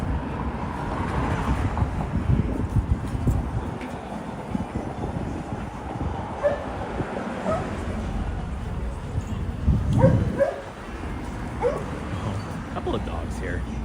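Dogs bark on a street in Toronto's East End during a Sunday sunset walk. The barks are moderately near amid a person talking and rumbling city and rail noise.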